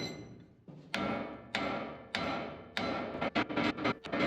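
Repeated hammer blows on metal while working a seized boat propshaft free during a rudder and stern tube removal; about six sharp, ringing strikes at uneven intervals, quickening into a rapid cluster near the end, fairly close and alone.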